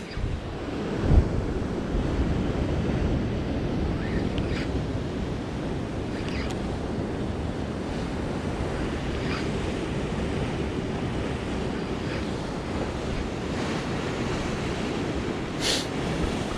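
Ocean waves surge and crash steadily against the Oregon cliffs during rockfish fishing, a continuous loud roar of surf with heavy wind buffeting the microphone and no voices.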